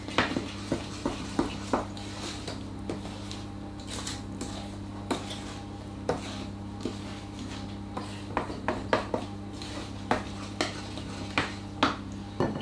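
A spoon beats blondie batter in a bowl, making repeated quick clinks and taps against the bowl in irregular bursts, close and distinct, over a steady low hum with no speech.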